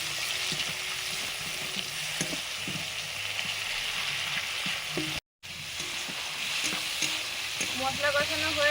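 Spice paste with green chili, ginger, tomato and Kashmiri chili powder fries in a pan, giving a continuous close sizzle with intermittent stirring scrapes and knocks, briefly cut to silence midway.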